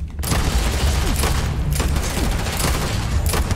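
Heavy gunfire rattles in Starfield, a dense fusillade of loud bursts and booms close up, continuous for several seconds without talking.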